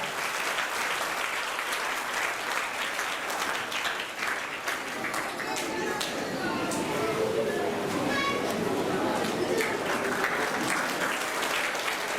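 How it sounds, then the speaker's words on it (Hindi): A crowd applauds loudly and steadily for several seconds at a school elocution and choral recitation contest, the clapping dense and unbroken, with faint voices mixed in. "एक बार जोरदार तालियां"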